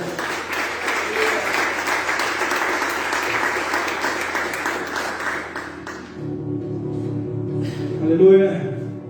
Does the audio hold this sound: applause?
yes